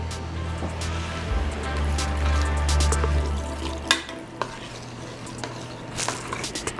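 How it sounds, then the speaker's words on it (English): Beef stock poured into a hot pan, with a low liquid gush and sizzle at first, then scattered clinks and stirring sounds of a utensil against the pan, near and fairly loud without talk. "We're going to add a little bit of beef stock."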